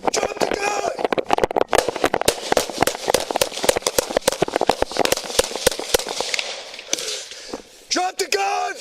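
Rapid volleys of gunshots in a police gunfight in Virginia, dozens of sharp cracks fired in quick irregular succession, loud and close, with shouted voices mixed in near the end.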